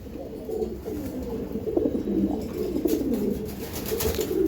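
Racing pigeons from a club loft coo softly and steadily, a low continuous murmur of several birds close by with no talk.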